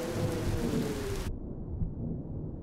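Heavy rain in the video game Cattails pours steadily with a low rumble, then cuts off abruptly halfway through, leaving only a soft low murmur.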